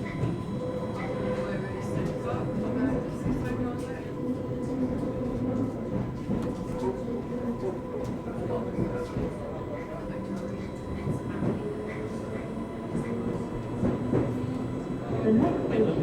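A Class 484 train on the Island Line toward Ryde St John's Road rumbles steadily from inside the carriage, with a constant low drone, faint clicks and some light chatter throughout.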